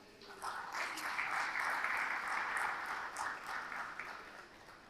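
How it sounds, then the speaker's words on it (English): Audience applause rings out at a corporate awards ceremony as the chief guest, a minister, comes up on stage, a fairly distant, roomy wash of clapping that swells, holds, then eases slightly toward the end. "Please give a big round of applause."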